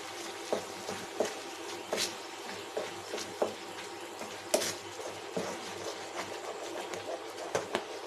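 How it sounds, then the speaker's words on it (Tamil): Leftover rice halwa stirred in a pan, quiet scraping and soft sizzling with irregular clicks of a spoon against the pan over several seconds. "அந்த அளவுக்கு நல்லா ஒரு 10 நிமிஷம் இப்படியே கிளறி விட்டுருங்க"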